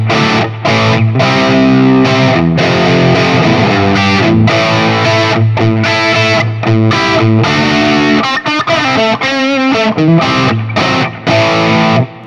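A distorted electric guitar through an Axe-FX amp model with an 808 overdrive plays a rock riff, loud and close, with chugging palm-muted stops and sustained chords.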